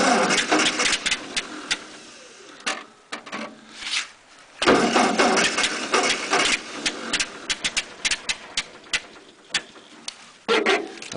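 A 1948 Ford 8N tractor engine with a tinkered, flood-prone carburetor is cold-started: repeated bursts of cranking and sputtering catch in uneven spurts, with brief pauses between attempts, loud and close.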